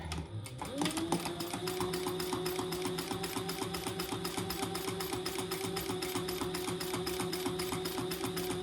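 Sewing machine running a steady rapid stitch through a foam-lined bag, with an even mechanical chatter that starts after a brief pause and carries on near and loud to the end.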